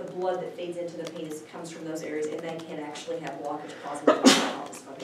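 One sharp sneeze from someone in a room bursts out near the end, during a man's steady lecture-style talk about medicine, briefly rising above his voice.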